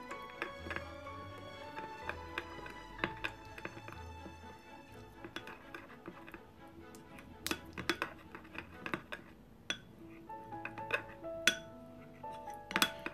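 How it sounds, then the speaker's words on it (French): A utensil stirs hair conditioner and oil together in a container, giving light, irregular clinks and taps against the sides, fairly close and quiet, with no one speaking. "Donc vous voyez, je vais commencer à tout mélanger."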